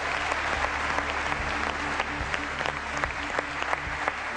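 Audience at a Turkish singing competition gives warm applause, a steady dense patter of clapping with a few sharper claps standing out, continuous for several seconds.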